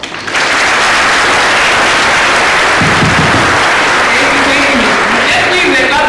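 Loud, dense applause from a large crowd of students fills the room continuously at a Kenyan scholarship event, with scattered voices mixed in under the clapping.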